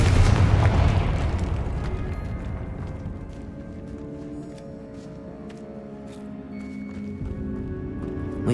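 A Confringo fire spell explodes in Hogwarts Legacy, one loud deep boom at the start that rolls off into a long rumbling decay with scattered debris and crackle.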